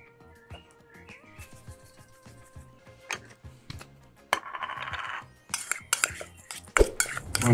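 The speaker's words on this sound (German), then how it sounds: "Und verrühre das Ganze dann gut." A spoon stirring garlic, onions and spices into avocado cream in a bowl, with scattered light clinks and scrapes that grow louder and busier toward the end.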